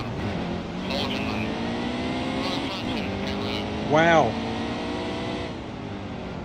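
Race cars bunched in heavy traffic at Martinsville in NASCAR Heat 2, a steady engine drone with shifting pitch and one brief louder pass, while someone talks over it.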